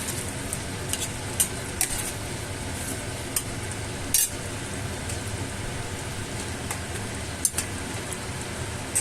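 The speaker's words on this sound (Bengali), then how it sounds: "পটলগুলো দিয়ে আমি খুব ভালো করে নাড়াচাড়া করে দিলাম" Fried pointed gourd (potol) being stirred into a sizzling spice paste, steady frying hiss with intermittent sharp scrapes and clinks of a utensil against the pan.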